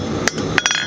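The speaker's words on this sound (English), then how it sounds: "Watch the angle of my hammer as it's coming down." A blacksmith's hammer strikes hot steel while forging a bottle opener, landing two sharp, ringing blows in quick succession, each followed by a lighter bounce tap, close and loud with no talking.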